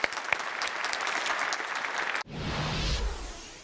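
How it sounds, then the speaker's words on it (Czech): A studio audience claps in a dense, steady burst of applause that breaks off, followed by a brief louder swell of clapping and cheering. "takže ti tleskáme"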